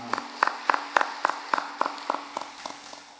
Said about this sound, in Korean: 생일 맞이하신 분들 박수로 축복하겠습니다